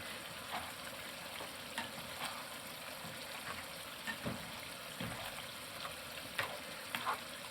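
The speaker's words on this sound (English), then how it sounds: "Now, I'm just going to stir that all in." Sauce for spaghetti is stirred in a pan, with a quiet, steady sizzle and occasional soft scrapes and taps of the utensil against the pan, fairly faint and with no talking.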